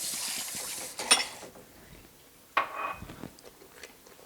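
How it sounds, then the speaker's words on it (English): A spoon scrapes and clinks against a metal Instant Pot liner while stirring thick custard, with a few sharp scrapes amid quieter intermittent rubbing, close and fairly soft. "Make sure you're stirring this pretty constantly"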